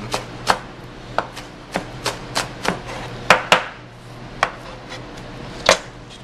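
Green onion tops chopped with a knife on a cutting board: about a dozen sharp, close strikes at an uneven pace, with brief pauses between them.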